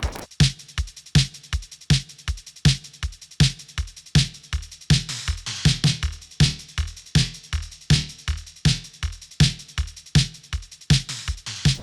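A programmed post-punk drum beat runs with a ping pong delay echoing the hits, punchy kicks and snares in a steady driving rhythm, close and loud with no voices.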